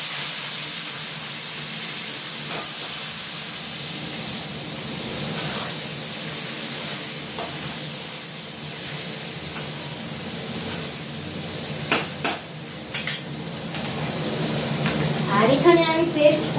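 Chopped tomato and onion sizzle in hot oil with tempered spices, a steady broad hiss running throughout with a brief louder crackle and scraping near the end.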